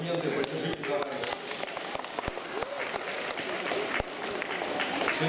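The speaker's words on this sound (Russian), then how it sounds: "Аплодисменты, поддержите, товарищи" Audience applause fills a hall at an award ceremony for a 2016 Federation Cup combat-sports event, steady dense clapping with a few sharper claps, running under a speaking voice over a PA.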